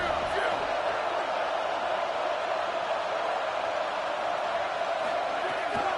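A football stadium crowd roaring in a dense, continuous wall of noise, loud and unbroken throughout, with no clear individual voices standing out.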